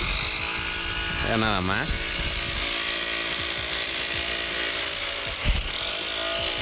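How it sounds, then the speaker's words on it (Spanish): An electric demolition hammer breaks stone at a quarry, its dense continuous rattling roar filling the clip loud and near while people talk over it. "Ahí está el martillo eléctrico."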